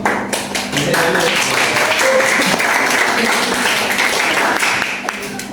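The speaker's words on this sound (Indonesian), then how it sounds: "tepuk tangan semua kelompok ya" Classroom group applauding all the presenting groups during a teacher training session, a sustained, fairly loud burst of many hands clapping that tapers slightly at the end, with faint voices mixed in.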